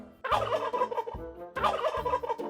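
A turkey gobbles twice in quick rattling bursts, close and clear, with a short pause between calls.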